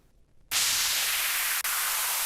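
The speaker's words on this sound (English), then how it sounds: "that gives you this white noise sample that you can repeat ad nauseum" A stretched white noise sample taken from an effects faller, of the kind layered into a future bass or melodic dubstep drop, bursts in after half a second of quiet and runs as loud, bright, steady hiss with one brief dropout.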